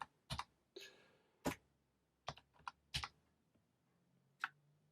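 Keys on a computer keyboard are tapped out in short, irregular clusters as a password is entered on a Raspberry Pi Zero 2W desktop setup, quiet and close with no voices.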